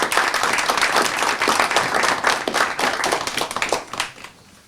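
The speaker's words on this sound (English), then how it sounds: "So I'd like to give them all a big round of applause" An audience applauds students at a school board meeting with loud, dense clapping that holds steady for several seconds, then quickly thins and fades out at the end.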